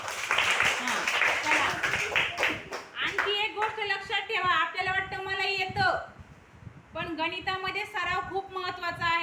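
Quick rhythmic hand claps for a few seconds, then voices take over, chanting or speaking in a sing-song way.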